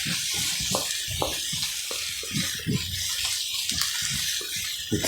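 Egg hakka noodles with ginger stir fry over high heat, giving a constant loud sizzle under a dense run of scraping and clattering strokes as the pan is stirred continuously.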